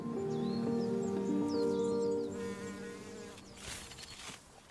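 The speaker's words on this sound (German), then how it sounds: "Auch Wildbienen bestäuben Nutzpflanzen." Wild bees buzz steadily in close range, a sustained drone with shifting pitch as individuals move near flowers in a species-rich meadow, a few faint bird chirps behind; the buzzing fades into softer rustling near the end.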